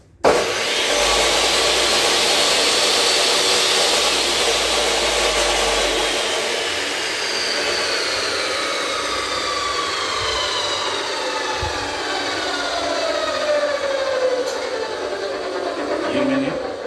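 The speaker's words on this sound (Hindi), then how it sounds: "मशीन को सेट करके इसको कटिंग करना है। इसका कटिंग की आवाज़ भी फ्रेंड्स थोड़ा खतरनाक आवाज है" A cutting machine saws through aluminium pipe, a loud continuous harsh whine with a broad noisy hiss and falling pitch sweeps as the blade works through the metal, steady throughout.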